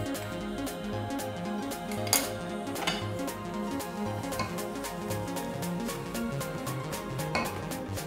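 Crushed lotus seeds being stirred into milk in a pot for kheer, a spoon scraping and knocking against the metal in a steady rhythm, with a few sharper clinks standing out.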